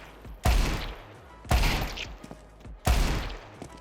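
Three loud, sharp gunshot bursts spaced about a second apart, each with a short decaying tail, from automatic fire by a cheat in the Counter-Strike 2 video game.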